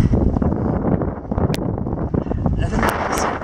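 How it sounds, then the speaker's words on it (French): Strong storm wind buffeting the microphone while canoeing on a river in the Ardèche in April, loud gusty rumble and rustle throughout, with someone talking over it. "le vent souffle en tempête"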